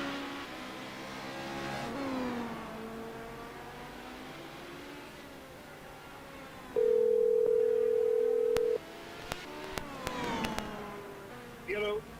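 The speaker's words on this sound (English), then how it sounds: "Let's call Jason on the regular phone" A regular phone's dial tone hums steadily for about two seconds between quiet talking, followed by a few sharp clicks and short beeps as the call is placed.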